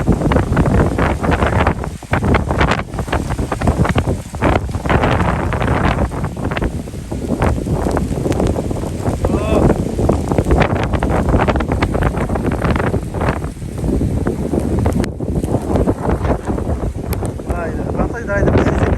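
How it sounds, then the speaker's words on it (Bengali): Strong gusts of wind buffet the microphone continuously with loud rumbling roar, outdoors in rain, with a voice talking at times underneath. "কিন্তু বাতাস প্রচুর"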